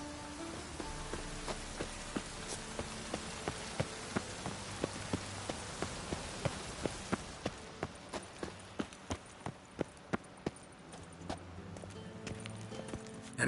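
Steady rain hisses through the Witcher 3 game scene while horse hooves clip-clop in a regular walking rhythm, the hoofbeats growing sharper and more distinct toward the end.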